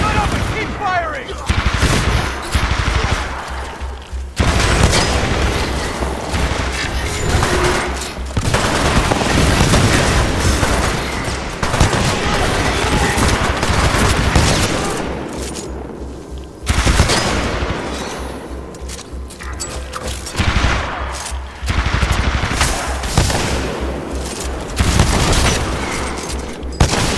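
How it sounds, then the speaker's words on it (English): Dense automatic gunfire and heavy booms fill a Titanfall 2 campaign battle, rattling bursts stopping and starting in waves, loud and close, with shouted voices mixed in. "Shut up and keep firing!"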